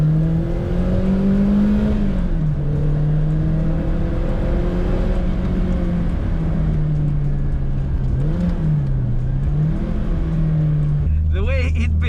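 Renault 5 Turbo 2, a Group B homologation special, pulls hard with its turbocharged engine, a loud, close, droning note that holds and wavers with brief dips before the pitch drops sharply near the end.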